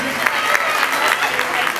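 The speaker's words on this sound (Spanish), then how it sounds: "Un fuerte aplauso a ellos como se lo merecen" A crowd applauds honorees at an Ecuadorian community recognition ceremony in Los Angeles, a steady wash of clapping with voices talking over it.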